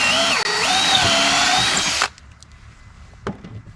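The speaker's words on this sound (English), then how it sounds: "Pick a hole, and you're just going to drill until it's all the way in." A power drill bores a pocket hole into plywood through a jig, a loud high whine with wavering pitch for about two seconds, then cuts off abruptly, leaving faint room noise and a light knock.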